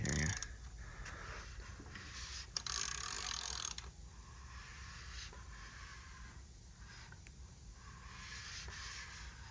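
A 2.3-litre turbo Ford Ranger four-cylinder engine from 1989, with all four pistons newly installed, is turned over slowly by hand, giving soft mechanical clicks and ratcheting scrapes that come and go under steady background noise, with no talking.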